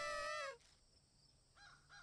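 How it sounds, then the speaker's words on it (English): A small flock of birds gives loud, harsh honking calls, goose-like in tone. A strong call comes first, then shorter, fainter calls follow in a ragged chorus at close range. "They are often seen in small flocks such as these, where they are heard to create a very unique chorus."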